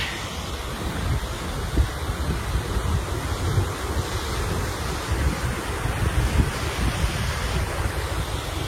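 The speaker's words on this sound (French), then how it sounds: "Vous l'entendez au bruit, il y a beaucoup d'eau qui coule." Steady, dense rush of water roars continuously throughout, broadband and loud, like a nearby waterfall or torrent in the mountains, with some wind buffeting.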